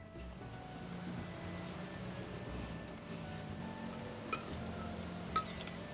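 Dough fries in hot oil with a soft, steady sizzle and a couple of sharp clicks near the end, quiet and without talk.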